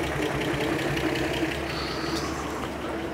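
An Armstrong Siddeley car engine idles steadily with a low, continuous rumble and slight mechanical ticking, close by and unchanging throughout.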